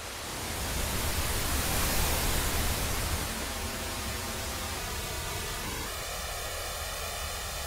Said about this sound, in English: Let's fire up that fountain sound again